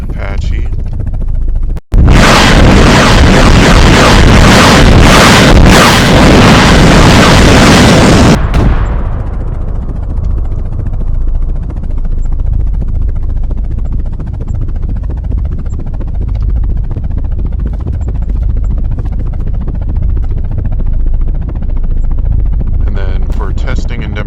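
An Apache helicopter roars in loudly in the video game DayZ, a dense blast of rotor and engine noise after a sharp crack, then settling into a steady rumbling drone that holds for many seconds.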